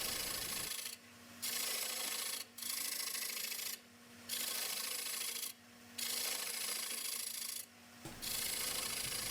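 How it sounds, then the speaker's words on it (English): A round nose scraper takes light cuts from the inside out on wood spinning on a lathe, making a steady rasping scrape in several long strokes separated by brief pauses. "I'm using my round nose scraper this time. I'm just taking tiny little cuts from the inside out to create the concave rings."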